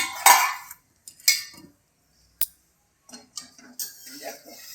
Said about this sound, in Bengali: তো দেখো ঢাকনাটা তুলে দিচ্ছি।